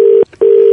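A loud, steady telephone tone sounds after a dropped call, cut off by one short silent gap before it resumes.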